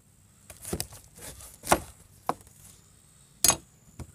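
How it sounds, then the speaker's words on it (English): A Half Face Blades chef knife chopping through tough stems, several sharp isolated knocks on a cutting board separated by pauses, close and fairly loud, with no one talking. "Popped right through that stem."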